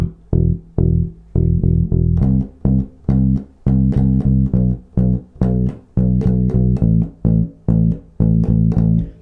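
A bass guitar plays a walking bass line alone, clear plucked notes in a steady rhythm, each note sounding then cut short before the next, loud and close.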